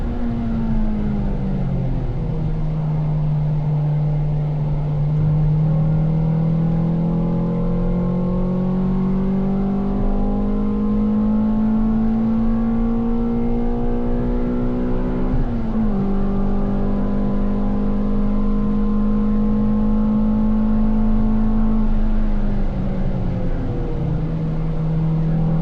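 A Ford Fiesta ST fitted with a Mountune exhaust and inlet cams pulls hard through a track hot lap, its engine droning steadily through long gear pulls with brief lifts and shifts, loud and continuous with no talk.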